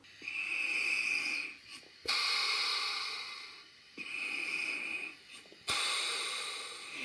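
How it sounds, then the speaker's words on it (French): A person snores in loud, rasping breaths, four long wheezy inhalations separated by short pauses, heard up close and alone. "Je peux montrer comment tu ronfles?"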